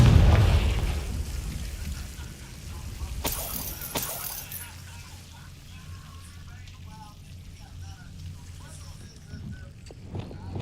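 In Hogwarts Legacy, the Confringo fire spell goes off as one sudden booming blast with a sharp crack, then a rumbling, crackling tail fading under quiet game ambience.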